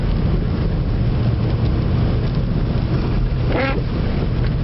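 A car drives through a snowstorm in Lewiston, Maine, with a constant loud rumbling roar of road and wind noise inside the cabin and a brief faint squeak near the end.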